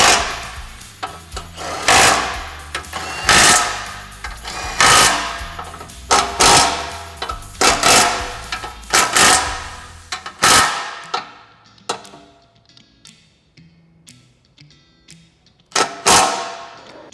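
A ratchet spins in rapid clicking bursts while bumper hardware bolts are tightened on a Can-Am Defender's winch-ready bumper, with loud bursts at first, then quieter, sparser clicks.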